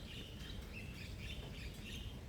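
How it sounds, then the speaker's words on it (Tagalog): Faint, distant birds chirping over a low background rumble, with scattered thin tweets repeating throughout. "naririnig ko na naman ng mga ibon"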